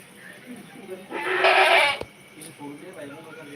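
A single loud goat bleat rises clearly above quiet background murmurs and faint rustling, close by, at a goat farm.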